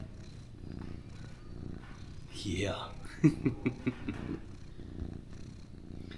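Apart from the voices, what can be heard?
domestic cat purring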